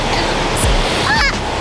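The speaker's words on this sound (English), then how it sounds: "What I love about the beach is just the calming sound of the ocean." Ocean surf at a San Diego beach on a chilly, windy day, a loud continuous roar of breaking waves close by, with a brief bird-like chirp over it.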